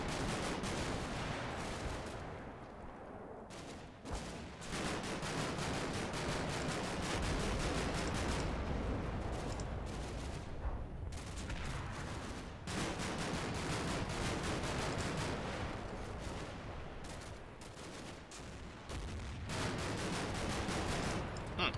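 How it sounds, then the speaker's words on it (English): Sustained gunfire in the wargame Combat Mission as troops area-fire on a house, a dense continuous roar of overlapping shots and bursts with brief lulls, no voices. "I think he's actually area firing the house."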